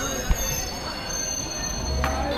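Bagh Express passenger train rolling slowly, with a steady close rumble and rattle of carriages, a faint high wheel squeal and a couple of clunks from the track joints.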